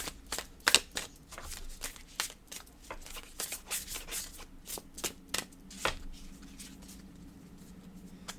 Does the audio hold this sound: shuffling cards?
yes